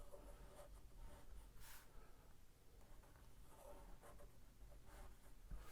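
Pen or marker drawing on paper, faint scratchy strokes in short bursts separated by pauses, close and quiet with no talk.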